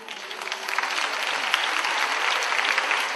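Large audience applauding school students after 540 children performed on stage in one batch at a school felicitation event; steady, dense clapping fills the whole stretch at even loudness.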